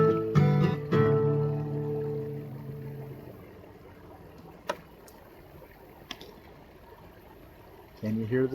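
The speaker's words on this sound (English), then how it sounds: "Can you hear the sound of Lost Creek?" Lost Creek flowing in a steady, soft rushing wash heard from its bank, with a voice speaking over it at the start and again briefly at the end.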